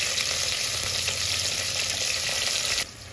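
Sliced onions and green chilies fry in a hot pan, giving a loud, dense, steady sizzle with faint crackles throughout. The sound drops off abruptly near the end.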